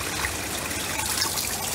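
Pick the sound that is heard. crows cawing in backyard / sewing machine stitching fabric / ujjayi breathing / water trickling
water trickling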